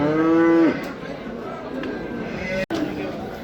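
A cow with a calf lets out a loud, drawn-out moo close by at a livestock market, followed by background chatter and someone talking amid farm noise.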